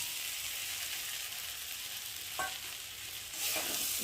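A soft, steady sizzle of Gobindobhog rice frying in a pan with spices for khichuri, with a couple of brief scrapes as it is stirred.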